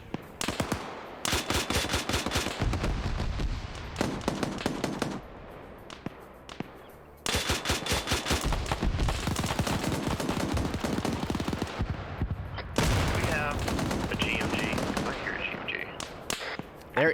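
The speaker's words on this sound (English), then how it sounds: "It is an enemy GMG." An enemy grenade machine gun fires in a military shooter game, rapid repeated bursts of loud, close fire broken by short pauses, with other gunfire and explosions mixed in and a voice occasionally talking.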